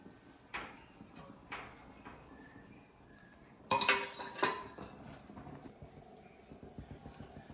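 A metal lid clatters onto a cooking pot in a home Kerala kitchen during preparation of a bitter gourd tamarind curry, a brief cluster of bright clinks over a quiet, faintly rumbling background after a few softer knocks.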